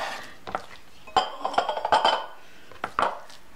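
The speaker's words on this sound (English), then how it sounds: "So when you cut your meat, please be careful your hands." A knife works through beef on a cutting board as meat is sliced for a Filipino-style beef stir fry with bell pepper, giving a few sharp clacks and taps against the board, close up, in scattered bursts with pauses between.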